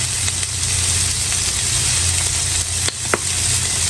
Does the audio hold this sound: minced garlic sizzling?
yes